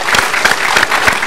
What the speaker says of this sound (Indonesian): Tepuk tangan lagi buat Denny Darko.